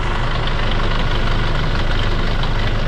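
Up close, the D4CB diesel in a Hyundai Starex idles noisily with a worn timing chain, giving a constant dense clatter and rattle for several seconds, with no voices.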